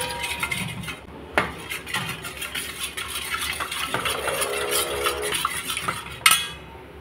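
Yogurt (doi) being beaten in a bowl for misti doi, with a steady run of clinking, scraping spoon-on-bowl strokes and occasional louder knocks, close and without talk.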